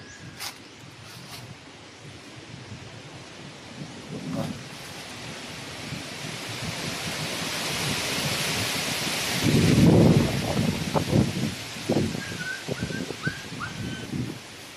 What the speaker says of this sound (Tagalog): Grabe, kusog sa hangin.